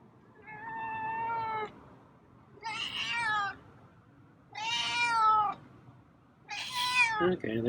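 A feral cat outdoors around dusk gives four drawn-out meows, each about a second long, spaced by short pauses and fairly close and clear, with no talking over them.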